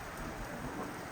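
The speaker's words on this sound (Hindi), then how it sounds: "लेकिन आज सुबह से सनासर में घनघोर बारिश हो रही है," Heavy rain falling in Sanasar, a dense, steady hiss of downpour that stays constant throughout, with no voices.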